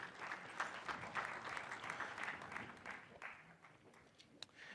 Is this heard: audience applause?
yes